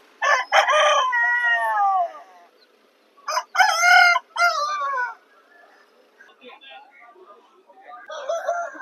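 Two loud rooster crows close by, separated by a short pause, followed by softer clucking and a faint start of another call.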